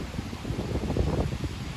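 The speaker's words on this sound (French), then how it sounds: "c'est par rafale" Strong storm gusts from storm Aurore in Amboise, a rushing low roar that swells and surges in pulses, close and blustery against the microphone, with no talk.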